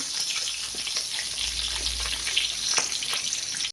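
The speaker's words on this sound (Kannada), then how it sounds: "ಟರ್ನ್ ಮಾಡಿದೆ ಇನ್ನೊಂದು ಸೈಡ್ಲೆಲ್ಲ ಆಯ್ತು ಫ್ರೈ" Semolina-coated mackerel fillets sizzle in hot oil in a pan, a steady close crackling hiss with small pops scattered throughout and no talking.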